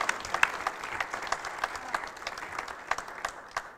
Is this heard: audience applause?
yes